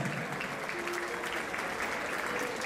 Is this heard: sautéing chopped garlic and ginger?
no